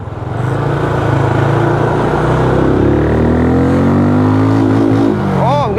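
Benelli Imperiale 400 motorcycle engine is revved hard to its limiter on a test ride. A loud, continuous engine roar climbs steadily in pitch, holds near the top, then drops briefly and rises again, with rushing wind noise throughout.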